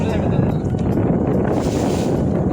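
A boat rocks on big waves near the Bay of Bengal in the Sundarbans, heard as a loud, continuous roar of wind and rushing water against the microphone, with no clear individual splashes.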